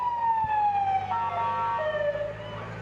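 A fire department ambulance siren wails up and down at a fall pumpkin festival parade in Conneaut Lake, loud and fairly close, with a low vehicle rumble underneath.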